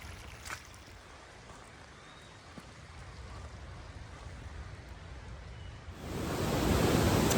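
A mountain creek beside a snowy stretch of the Pacific Crest Trail near Pinchot Pass rushes with a steady broadband wash that swells noticeably louder near the end, with no voices.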